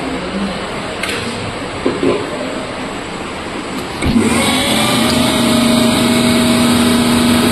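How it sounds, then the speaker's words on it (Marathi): A 230 V DC compound motor starts with a click and then runs with a steady, loud whirring hum that continues evenly to the end. "आपण आता मोटरला चालू करणार."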